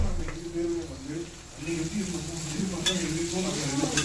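Chicken 65 sizzles and crackles as it fries in hot oil while someone talks over it, with occasional stirring clinks.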